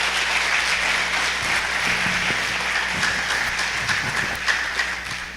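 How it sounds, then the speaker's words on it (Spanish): An audience at a conference on gender ideology gives warm applause to welcome an international guest speaker, a loud, sustained crowd of clapping hands running evenly throughout without speech. "Me están aplaudiendo antes de escucharme."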